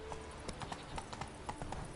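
Horse hooves clip-clopping at a steady walking rhythm in The Witcher 3, a run of distinct close hoof strikes over a low ambient bed of game sound.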